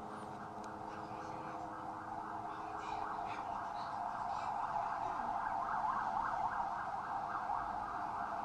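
An ambulance siren wails, rising and falling steadily in the distance, continuous throughout, over a low rumble of traffic in Jenin refugee camp.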